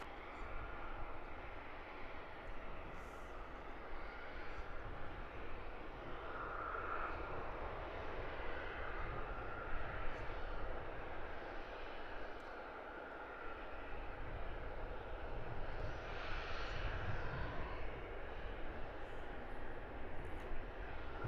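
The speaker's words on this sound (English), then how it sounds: "Jet 2 pushing back." A Jet2 airliner pushing back at Luton Airport, its engines a steady broadband rumble and whine that holds at moderate level throughout, heard at some distance with faint voices in the background.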